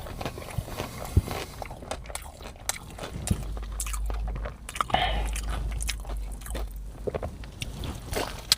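Chicken tenders and Texas toast dipped in Raising Cane's sauce are bitten and chewed close to the mic, with scattered soft crunches and wet mouth sounds amid quiet background noise.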